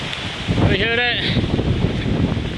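Strong wind roars and buffets the microphone at a mountain summit at Crowders Mountain State Park, loud and continuous, while a person speaks briefly over it.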